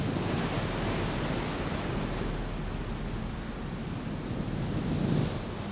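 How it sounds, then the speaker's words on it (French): Waves and wind on a rocky Caribbean shore: a dense, steady roar of surf and gusting wind filling the whole stretch, fairly distant and even, with no voices. "avec les vagues et le vent"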